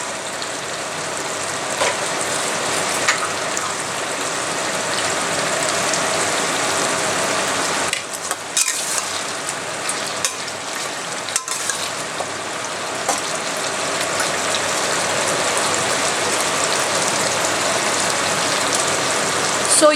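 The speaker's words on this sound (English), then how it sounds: "Now saute this onions till it turns its color to brown." Onions sautéing in a pan for a garlic mutton dish give a steady, close sizzle that fills the whole stretch, with a brief dip partway through.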